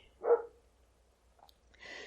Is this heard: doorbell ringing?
no